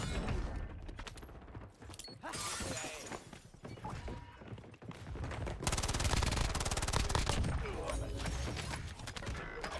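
Bursts of gunfire in the Warzone video game, dense and loud, with rapid automatic fire and sharp shots layered over game sound throughout.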